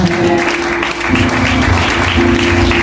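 A church congregation gives applause and acclamation at a Sunday service, loud continuous clapping with a low hum and some cheering voices mixed in.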